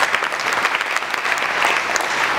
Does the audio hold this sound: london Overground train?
no